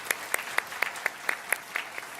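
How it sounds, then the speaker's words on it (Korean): A congregation at a youth Easter worship service claps together in an even, quick rhythm, about ten crisp beats in a row over low room noise. "다시 한번 하나님께 영광의 박수 올려드리겠습니다."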